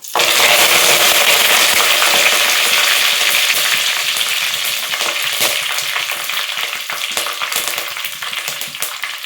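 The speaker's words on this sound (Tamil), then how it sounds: "இது கூட கொஞ்சமாக ஜீரகம் கொஞ்சமாக சோம்பு போட்டுட்டு கருவேப்பிலை போட்டுக்கிறேன்" Cumin, fennel and curry leaves crackle and sizzle loudly in hot oil, a dense, close spitting hiss that eases off gradually over several seconds.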